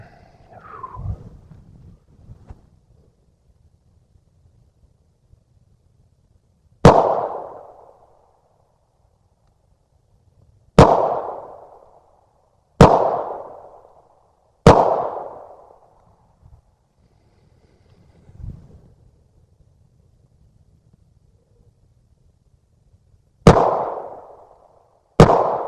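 Six sharp, loud 9mm shots from a Smith & Wesson M&P M2.0 Compact pistol crack outdoors at uneven intervals, each ringing briefly before quiet returns, with no talking.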